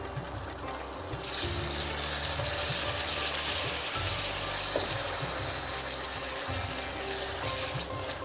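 Prawn ghee roast masala paste frying in ghee in a pan while it is stirred continuously, a steady broadband sizzle with soft scraping of the spoon throughout, close and even in level.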